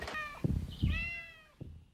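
Several clear cat meows, close and distinct, with short pauses between them and no talking.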